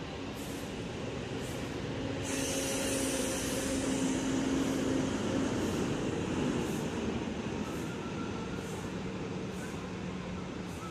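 Rosalia Indah intercity bus pulling out of the Poris Plawad terminal in Tangerang, a steady low engine rumble with broad rushing noise that swells slightly mid-way, heard alone against busy terminal ambience.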